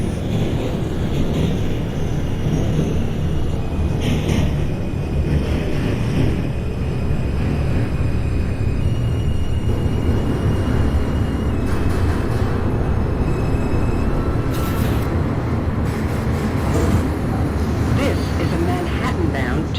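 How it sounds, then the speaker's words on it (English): An NYC Subway R142 train runs in the OpenBVE train simulator on a snowy run toward Flatbush Avenue, giving a steady, loud rumble of wheels and motors with faint tonal whines rising and falling over about twenty seconds. "Train."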